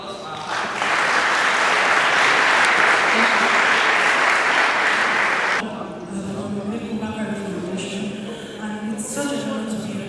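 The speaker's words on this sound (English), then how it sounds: "please, a round of applause for our panelists" An audience at a stakeholders' engagement event in Lagos gives panelists a strong round of applause that swells quickly and holds, then cuts off abruptly midway, after which a voice begins speaking over a quieter room.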